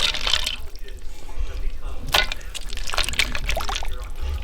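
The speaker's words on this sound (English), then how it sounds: "I might end up having to add some more" Water pours and splashes into a container of chicken brine with a continuous liquid gurgle, punctuated by a few sharper sloshes, fairly close and loud.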